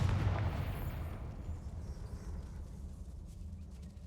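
A deep, rumbling blast from the Confringo spell in the video game Hogwarts Legacy, loud at the start and slowly decaying into a low roar.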